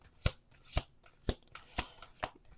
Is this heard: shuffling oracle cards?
yes